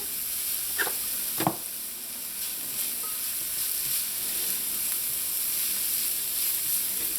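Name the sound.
sauteing onion, garlic, pepper and culantro with salt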